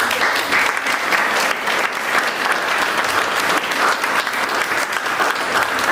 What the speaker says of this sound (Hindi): बगल वाले ताली बजा रहे